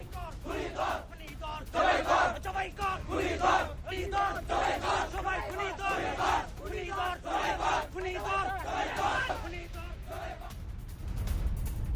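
A large crowd of hardline marchers on a Dhaka street chants and shouts in rhythmic, loud unison, with repeated surging calls carrying over a continuous crowd roar.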